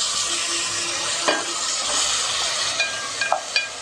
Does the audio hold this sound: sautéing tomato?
yes